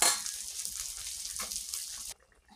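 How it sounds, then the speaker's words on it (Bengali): Fish frying in a pan for a sour dish in a home kitchen gives a steady, close, hissing sizzle that runs on and then cuts off abruptly near the end. "মাছটা ভেজে নিচ্ছি।"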